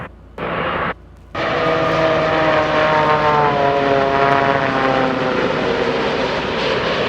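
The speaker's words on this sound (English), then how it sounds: "The 787 has a ram air turbine that deploys when the plane loses engine power." Boeing 787 ram air turbine spinning in a played-back recording, a loud, steady whirring drone with rising tonal harmonics after a brief cut at the start, no voices.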